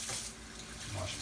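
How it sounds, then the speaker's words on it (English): Tap water running steadily into a kitchen sink while hands are washed between marinating meat and stirring oil, a short continuous splashing wash at moderate level with no talk. "Wash my hands again."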